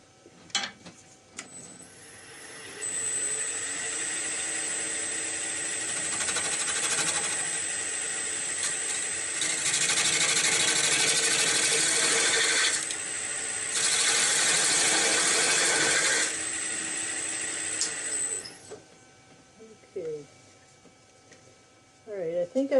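A wood lathe spins a soft maple blank while a tool cuts it in long, steady hissing passes that swell and drop over about twenty seconds, fading to quiet near the end.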